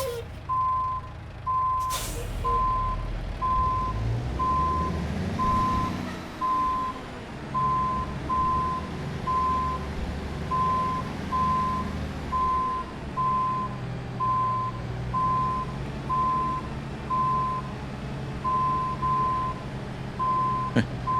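A Mack flatbed truck in American Truck Simulator backs up with its reverse beeper sounding a steady, evenly spaced series of beeps over the rumbling engine, after a sharp air brake hiss near the start.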